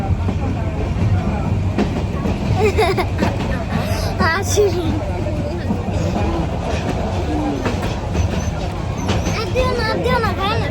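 Steady rumble and rattle inside a moving train, with a continuous babble of passengers' voices and children talking close by throughout.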